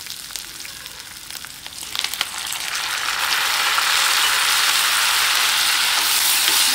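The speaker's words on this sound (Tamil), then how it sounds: "நல்லா ஃப்ரை பண்ணலாம்." Chana dal chutney ingredients frying in a pan, a soft crackle that builds into a loud, steady sizzle with occasional stirring clicks, no voices.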